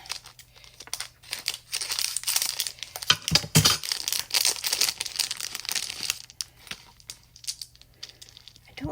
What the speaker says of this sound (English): let me open the package